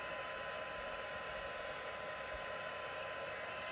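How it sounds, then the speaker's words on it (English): Heat tool blowing to melt embossing powder on a stamped card, a steady close airy roar with a low hum and no talk. "You need to heat it, otherwise that powder can be wiped off super easy."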